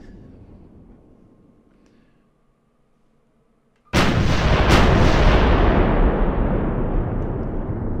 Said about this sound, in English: So what we got here is we've got our howitzers, 105 millimeter.